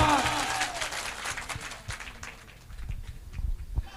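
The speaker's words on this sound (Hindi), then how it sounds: "जोरदार ताली," Audience applause and cheering at a Bihar election mushaira rally: a dense, steady wash of clapping from a large crowd, with a voice briefly audible over it at the start.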